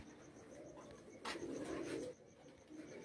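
A female flying pigeon of the chiryon wali breed coos on a rooftop, with one soft, low burst of cooing mid-clip over faint outdoor ambience and a thin high chirp in the background.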